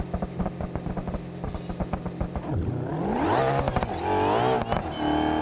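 A car engine sets up a two-step launch with a rapid popping, crackling exhaust stutter, then revs hard and rises in pitch as it launches, loud and close with no talk.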